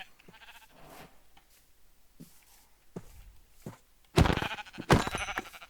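Sheep bleating in the Minecraft video game: a few faint bleats early on, then two loud, close bleats near the end, with no talk over them.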